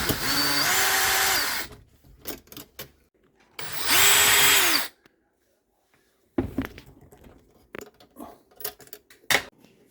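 A power drill removes bracket screws under a Whirlpool dishwasher being swapped for a Maytag, with two loud sustained whirring bursts followed by scattered clanks and rattles of metal and tools nearby.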